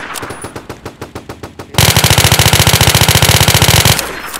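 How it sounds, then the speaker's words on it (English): A fast-firing gun in a video game lets off loud rapid gunfire: a string of separate shots, then a dense continuous burst of very quick rounds that cuts off abruptly. "Heavy fire. Very heavy. And it's pretty fast too."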